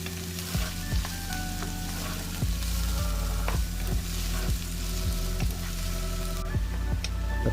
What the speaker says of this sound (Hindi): यहाँ पर आपने प्याज को बहुत ज़्यादा ब्राउन नहीं करना, बल्कि थोड़ी देर के लिए फ्राई करना है